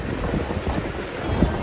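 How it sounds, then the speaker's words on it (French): Heavy rain with a low thunder rumble, a dense steady hiss of falling water under a deep rolling boom, continuous and fairly loud throughout. "Avec toute cette pluie là"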